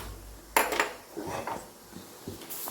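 A tawa griddle is set down on a stove for making roti, with one sharp metallic clank followed by a few lighter scraping and knocking sounds nearby.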